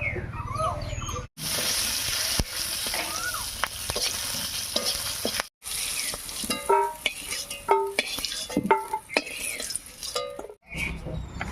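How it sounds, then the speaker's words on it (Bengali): Broken green chilies frying in leftover fish-frying oil crackle and sizzle loudly, with clattering stirs and a few sharp pops, briefly cut off at moments. "মাছ ভাজার এই তেলের মধ্যে কয়েকটা কাঁচা লঙ্কাও ভেজে নেব"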